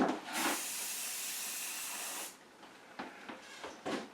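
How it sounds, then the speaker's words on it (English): A hairspray aerosol can hisses in one sustained spray lasting about two seconds, followed by a few soft taps and short puffs. "I'll give it a final spray of hairspray to"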